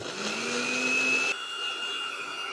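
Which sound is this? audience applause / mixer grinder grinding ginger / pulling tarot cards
mixer grinder grinding ginger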